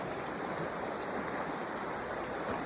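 Creek water flows steadily with a broad, even rush and no break, close and alone, like an outdoor stream running over rocks.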